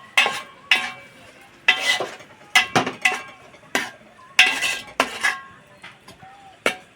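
A spoon stirs fried flat beans and tomatoes in a metal pan, giving a run of sharp, close scrapes and clinks in an uneven rhythm, with a faint sizzle underneath.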